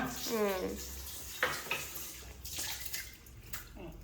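Water splashes and sloshes in a basin as mixed leafy greens are rinsed by hand, with a few brief clinks and a short bit of voice.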